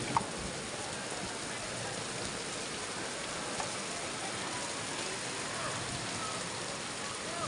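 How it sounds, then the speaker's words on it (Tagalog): Heavy rain at the beach, a steady, even hiss of falling water filling the whole stretch, with a faint tap or two. "hindi po namin alam kung ano ito titigil itong ulan."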